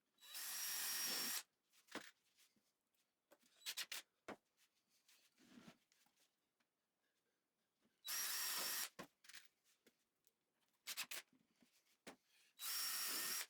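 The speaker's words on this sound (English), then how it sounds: "Then pre-drill and screw the legs from the outside." A power drill whirs in three loud bursts, pre-drilling and driving screws into 2x4 wood legs, separated by quieter clicks, taps and handling noises from the work on the wood.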